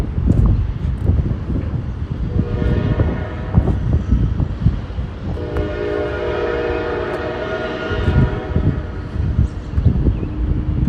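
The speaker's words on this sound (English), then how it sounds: "That loud ass train." Loud freight train passing near a truck stop, a heavy rumbling roar of rail cars with a sustained horn blast in the middle, close and continuous over wind buffeting.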